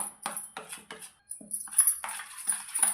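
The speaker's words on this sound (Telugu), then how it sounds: "విస్కర్తో కూడా కలుపుకోవచ్చు ఇలా పిండి బ్యాటర్ ఎలా ఉంటుందో అలా అయితే కలుపుకోవాలి" Jalebi batter whisked by hand in a bowl, heard as a run of close, quick metallic scraping strokes against the bowl with brief pauses between bursts, no voices.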